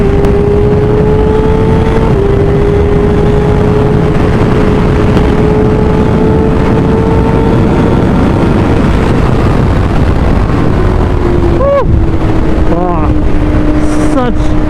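A 2024 Kawasaki Ninja ZX-6R revs hard under acceleration, its engine note climbing in long sweeps with brief dips at gear changes, loud and close against heavy wind rush, ending in a quick series of shifts.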